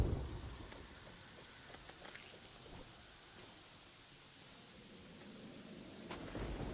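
Rain and a thunderstorm in the video game Terraria: a soft, steady rain hiss with low rumbling thunder swelling at the start and end, quiet and distant, no voices.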